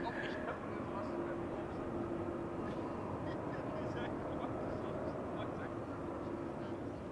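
A KLM airliner landing at Schiphol's Polderbaan roars with a broad, sustained rumble of reverse thrust, steady and fairly distant, with a faint voice over it.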